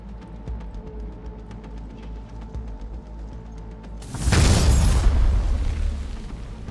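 A steady hum with faint ticking gives way to a loud, sustained boom that rumbles and roars for a couple of seconds, an explosion in the video game Cyberpunk 2077.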